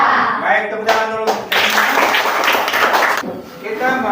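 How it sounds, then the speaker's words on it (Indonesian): Classroom audience clapping in a teaching session, a dense burst of applause from about 1.5 to 3.2 seconds with shorter bits around it, mixed with voices. "tepuk tangan dulu"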